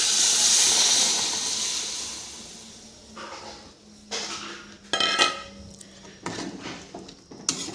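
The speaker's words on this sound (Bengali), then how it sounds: "ভাজা হয়ে গেলে সিম সিদ্ধর জলটা আমি আলাদা করে রেখেছিলাম, এই জলটা দিয়ে দেব, ঝোল হিসেবে ব্যবহার করব" Reserved bean-boiling water poured into a hot frying pan gives a loud hiss and sizzle that fades, followed by scattered clinks and scrapes of utensils against the pan.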